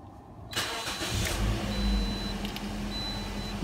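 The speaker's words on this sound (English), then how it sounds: "So let's start the car up." A Toyota Corolla engine cranks and catches, then settles into a steady idle, heard up close with no talking.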